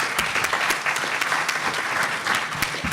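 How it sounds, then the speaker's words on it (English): An audience claps steadily for a mayor from Pontiac, Michigan being introduced at a conference on smart cities, with dense, even applause running throughout. "Please give her a round of applause"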